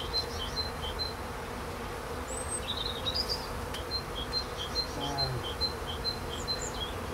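Honey bees hum continuously around an opened hive during a March frame inspection, a steady close drone with scattered higher buzzes of individual bees passing and faint bird chirps in the background.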